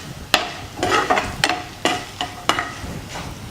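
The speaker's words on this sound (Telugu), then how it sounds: "తాలింపు బాగా వేగిపోయిన తర్వాత సాంబార్లో వేసేసుకుంటాం" Spluttering tempering goes into sambar and is stirred, with a series of close scraping strokes about every half second over a low background sizzle.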